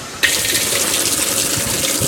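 A Kenmore 80 Series washing machine refills, water abruptly gushing into the tub and then pouring in a steady, close, full-bodied stream.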